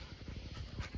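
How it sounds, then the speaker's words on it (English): Dogs jumping around, with dense low thumps and scrabbling on a steady rhythm, sounding close and moderately loud alongside some panting and no talk. "look at these dogs just jumping around."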